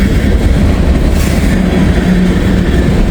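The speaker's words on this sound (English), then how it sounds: "other Norfolk Southern train is going to come this way" Norfolk Southern freight train passing close by on the tracks, a loud continuous rumble and rolling wheel noise with clickety-clack, steady throughout and without any speech.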